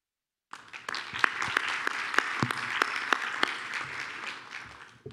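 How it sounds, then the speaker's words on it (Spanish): After a brief silence, an audience at an informational session on the IANA Numbering Services review committee breaks into steady applause, with a moderate wash of clapping punctuated by distinct sharp individual claps. "un abrazo y un fuerte aplauso"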